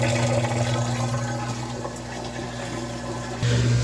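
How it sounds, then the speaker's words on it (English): A GE stackable washer's pump drains water out of the tub, a steady rushing, gurgling hum with a low motor drone that dips briefly and then swells again near the end. "You can hear it draining in the back."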